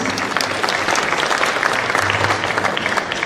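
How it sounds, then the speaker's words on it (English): Steady, dense applause from an audience at a Kenya Film Commission awards ceremony, loud and sustained throughout with no voice over it. "A clap for our judges, please"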